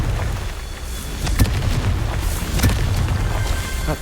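A Confringo blasting spell explodes in Hogwarts Legacy, with a couple of sharp booming impacts over a rumbling, crackling wash of noise, loud and close.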